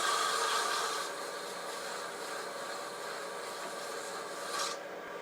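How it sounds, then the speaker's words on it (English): Coarse 100-grit sandpaper rubs against a wooden gonk spinning on a lathe at reduced speed, a steady close abrasive hiss that starts louder and settles into an even rasp. "I'm going to slow the speed down for sanding to about 1/3 of what I was turning at."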